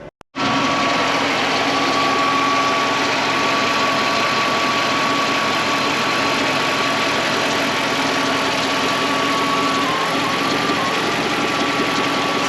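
A Mercedes M119 V8 idles steadily and loudly up close, its drone occasionally stumbling and faltering, with no voices over it.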